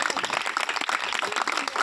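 Audience at an outdoor Christian gospel meeting clapping together, a dense burst of rapid, fairly close applause lasting under two seconds.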